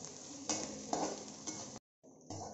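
Ginger, green chillies and broken red chillies sizzle in hot oil as a utensil stirs them, with scraping bursts over steady frying and a brief silent gap near the end.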